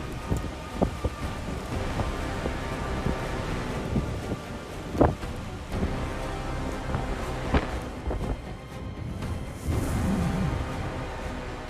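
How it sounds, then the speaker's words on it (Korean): Strong gusts from Typhoon Hinnamnor, a powerful storm heading toward the Korean Peninsula, roar steadily and buffet the microphone with several sharper bursts, with no voices. "역대급 위력의 태풍 흰남노가 한반도를 향해 북상하고 있습니다"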